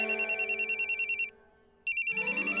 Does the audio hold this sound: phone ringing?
yes